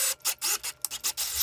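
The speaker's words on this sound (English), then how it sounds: "and drill out the M6 threads." A spiral tapping bit lubricated with WD-40 cuts M6 threads into a CNC machine base part in short, loud rasping bursts, about six pulses separated by brief pauses.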